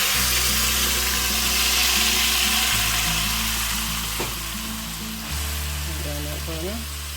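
Pea protein taco meat mixture sizzles loudly and steadily in hot oil in a pan, a dense continuous frying hiss with some stirring and utensil sounds, no talking.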